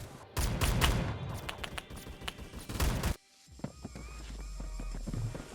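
A machine pistol firing in the Roblox game Phantom Forces: a rapid burst of close shots for about three seconds, then quieter movement and ambient game sounds.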